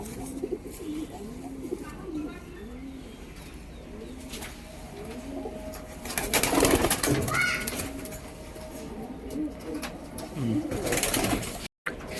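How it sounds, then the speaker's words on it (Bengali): Female pigeons coo in repeated soft, low rolling calls close by, with a burst of wing flapping and bird rustling in the middle and faint talk now and then. "এটা একটা মাদা পায়রা দেখাচ্ছি আপনাদের কাছে"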